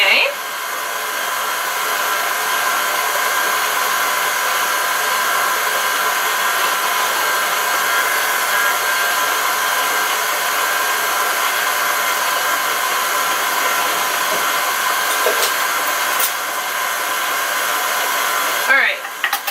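An electric mixer whirs steadily and loudly while beating an almond, avocado and flax seed bread batter, a continuous motor drone lasting nearly twenty seconds and cutting off abruptly near the end.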